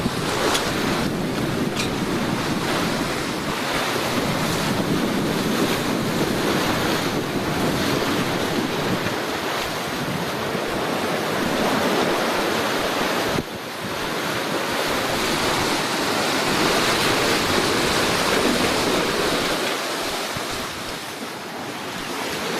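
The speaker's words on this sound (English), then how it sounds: "Look at these waves coming in behind us." Ocean waves churning behind a fast-moving boat, a steady loud broadband rush of surf and spray mixed with wind buffeting the microphone, continuous throughout with no voices.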